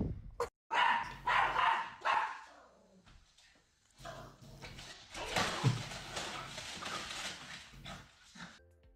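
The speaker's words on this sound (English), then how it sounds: "Dog going fucking crazy." A dog barks excitedly in close, loud, repeated bursts with brief gaps, joined by rough scuffling noise throughout.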